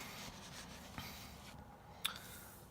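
Soft scratching of a pen writing in a Happy Planner classic-size planner, quiet and close, with a couple of faint taps and a small click near the end.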